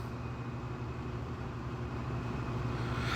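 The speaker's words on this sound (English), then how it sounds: "excuse the noise in the background. I mean, I got like 4 fans running." Several electric fans running at once in a hot room, a steady low whooshing drone with a faint hum, constant and unchanging throughout, with no voices.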